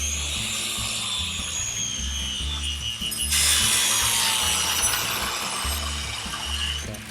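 Hand saw cutting through a plywood jig piece clamped against a guide on a truss retrofit wall, a continuous close rasping stroke with a low rumble underneath, growing slightly brighter partway through.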